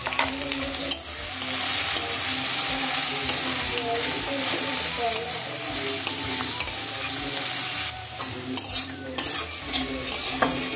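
Frying spices, turmeric and chili powder, sizzle loudly and steadily in a pan with continuous scraping stirs and occasional clinks of the utensil, close up, the hiss easing briefly near the end.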